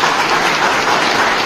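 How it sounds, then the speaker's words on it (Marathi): A crowd at a school alumni reunion in a Marathi village breaks into loud, sustained applause that stays dense and even throughout a short burst. "त्यांच्यासाठी जोरदार एकदा टाळ्या झाल्या पाहिजे"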